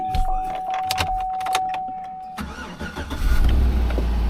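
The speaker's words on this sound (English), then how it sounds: "It'll start right up and run for you just fine." A truck being jump-started clicks and rattles briefly, then its engine catches and settles into a loud, rumbling idle close by.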